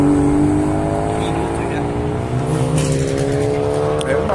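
A stage-tuned car engine revs loudly and close, its harmonic drone rising and falling with a brief tire squeal, while people talk over it.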